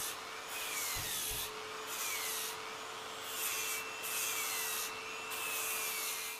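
Arbortech Mini Carver fitted with a flexible sanding disc shaping a wood edge, giving a steady close-up whirring rasp with rhythmic surges as the disc passes over the workpiece, two brief knocks near the start, no talk.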